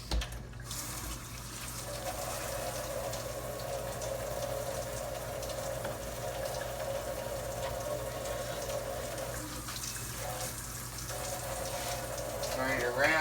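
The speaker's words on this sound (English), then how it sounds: "Rinse it off again." Tap water runs steadily over sweet potatoes being rinsed in a kitchen sink, a continuous hiss-like stream lasting most of the clip with a brief interruption near the end, with faint background noise.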